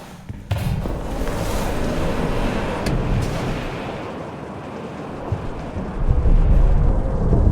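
A thunderstorm rages outside an airlock in the video game Fort Solis, a loud, continuous roar of wind and rumbling thunder with a sharp onset and swelling gusts, no voices.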